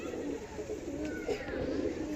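Adult pigeons at a pigeon sale give soft, low cooing calls under steady background hum, faint and somewhat muffled, with a few scattered rustles.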